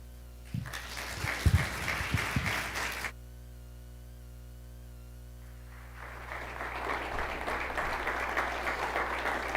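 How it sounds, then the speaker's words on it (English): Audience applause for the speakers at an evening storytelling event about the war, two bursts of steady clapping separated by a quiet pause, moderately loud in a hall. "another round of applause for all of our speakers tonight"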